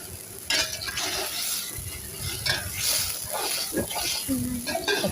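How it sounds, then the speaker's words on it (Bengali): Stinging catfish (shing fish) dropped into a hot frying pan of curry, giving a steady close sizzle with stirring and clinking, under a voice talking. "এখন আমি শিং মাছগুলো দিতেছি।"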